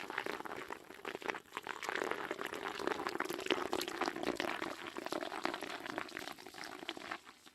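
Energy drink poured over crushed ice, a steady fizzing, crackling hiss of carbonated liquid hitting ice that runs continuously and fairly close for several seconds.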